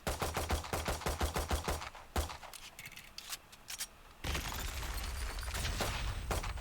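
Rapid gunfire from the agent Breach in the tactical shooter Valorant, a burst of sharp, evenly spaced shots that becomes irregular, then gives way to a dense sustained rattle, loud and close with no talking.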